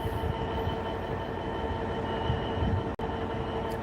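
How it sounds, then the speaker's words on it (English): A DB Cargo freight train passes at Peterborough with a steady, loud rumble of wagons rolling over the rails, a continuous clatter with one abrupt momentary dropout near the end. "I think we've got a freight train coming from behind us"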